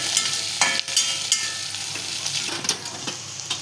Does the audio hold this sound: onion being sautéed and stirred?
yes